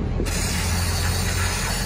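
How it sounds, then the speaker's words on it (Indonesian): Brake cleaner sprayed from an aerosol can onto a Kia Rio engine during an oil change, a steady close hiss running without a break after a brief quiet start. "pakai brake cleaner atau car cleaner sama aja"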